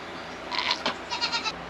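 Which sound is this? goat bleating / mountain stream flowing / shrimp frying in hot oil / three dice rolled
goat bleating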